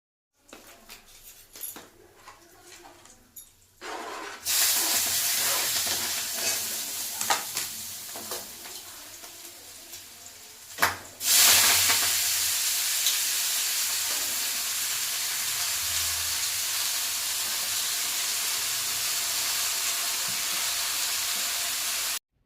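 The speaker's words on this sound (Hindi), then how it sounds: "और उनके भुनते ही डाल दिया है साग।" Saag hitting hot homemade mustard oil in an iron kadhai with asafoetida, cumin and green chillies, a few seconds of quiet clatter, then a loud sudden roaring sizzle with a short burst, settling into a sustained close hiss.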